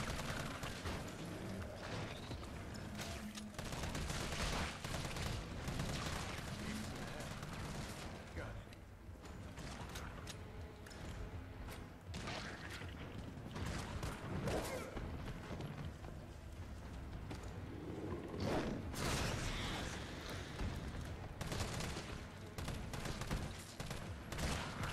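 Rapid bursts of gunfire in Resident Evil 3 against a steady backdrop of game sound, shots coming in dense clusters through the clip with frequent sharp transients and a voice occasionally underneath.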